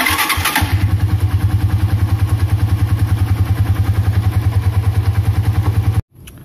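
A motorcycle engine being run during an oil and engine flush cranks briefly, catches, then idles with a rapid, steady loud putter close by before cutting off abruptly.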